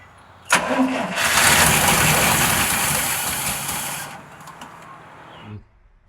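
A 1964 International Harvester Travelall truck engine cranks and catches with a sharp start, revs loudly for a few seconds, then settles into an uneven, rough idle before cutting off.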